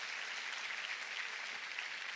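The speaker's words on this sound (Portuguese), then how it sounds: "Salve de palmas pro bapto aí." Church congregation applauding during a sermon, a dense steady patter of clapping that sounds somewhat distant and stays even throughout the short stretch.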